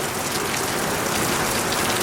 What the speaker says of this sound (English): we still could have worked in the pouring rain.